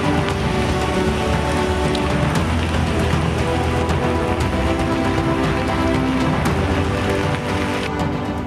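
Heavy cloudburst rain in Udupi pours down hard and continuously on surfaces, a loud dense roar of drops that stays steady throughout with no voices.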